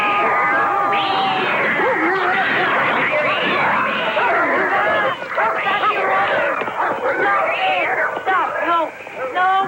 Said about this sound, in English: it's a room full of dogs and a room full of cats